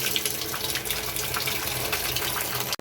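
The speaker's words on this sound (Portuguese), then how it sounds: "agora eu vou abrir a torneira" Water gushes steadily from an opened tap on a washing-machine hookup, a loud continuous splashing rush that lasts throughout and ends with a brief knock.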